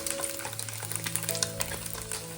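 Steady, close sizzling and crackling of tofu frying in a little olive oil in a pan, continuous throughout with no voices.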